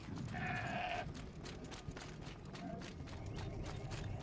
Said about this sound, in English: There are a lot of goats up here.